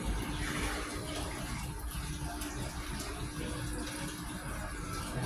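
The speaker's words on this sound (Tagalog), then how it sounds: "Pakita ko lang po paano mo siya nilagyan ng tubig." Continuous water pouring onto a plastic sheet in an aquarium, splashing steadily, a full rushing sound with no talking.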